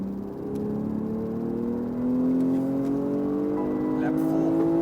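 A BMW M240i accelerating hard on the Dubai Autodrome track, its engine note climbing steadily and loudly through the revs as heard from inside the car.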